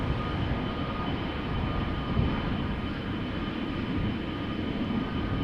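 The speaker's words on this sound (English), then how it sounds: "I think it's those engines that you are hearing now, overpowering those of the A320neo preceding it." Jet engines of a departing Boeing 777-200 at Amsterdam Schiphol Airport roar as a loud, steady, broadband rumble close by, sustained without a break and with no voices over it.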